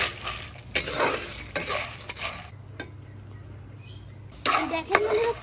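Corn kernels are stirred in Coca-Cola in a pan, giving scraping, clinking bursts of a utensil against the pan with a soft sizzle, broken by a quieter pause midway before stirring resumes.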